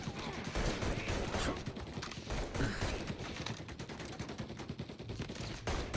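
Sustained gunfire in Mafia Definitive Edition, a dense, continuous barrage of rapid overlapping shots that stays loud and busy throughout.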